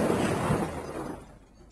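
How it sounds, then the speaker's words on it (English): A car slams into a parked car at 30 mph: one loud burst of crunching impact and shattering glass that decays over about a second into fading debris noise. "This is the sound of a car crashing into a parked car at 30 miles an hour."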